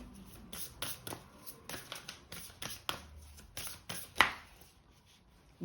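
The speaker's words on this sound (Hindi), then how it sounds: "तो मैं यहाँ पे और कार्ड्स निकालती हूँ आपके लिए।" Tarot cards are shuffled and drawn by hand in a quiet room, a series of close, crisp riffling bursts and flicks at an irregular rhythm with one sharper snap near the end, no talking.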